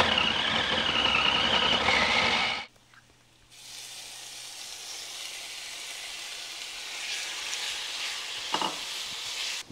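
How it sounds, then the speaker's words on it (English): Vegetables sauteing in a pot give a loud, close sizzle that cuts off abruptly, then a quieter, steady hiss of cooking that continues with no talking. "do a little sauteing first"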